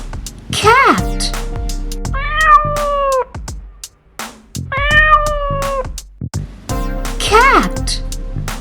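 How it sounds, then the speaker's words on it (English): A domestic cat meows in two clear, drawn-out cries, close and loud, between sharper short accents. "Cat."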